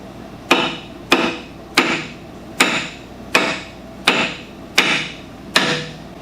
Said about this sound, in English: You don't have like a brass hammer or something?